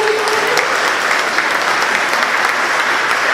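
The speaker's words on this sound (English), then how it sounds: "Round of applause for Julie." An audience at a business breakfast applauds speaker Julie. Loud, dense, continuous clapping fills the whole stretch with no talk over it.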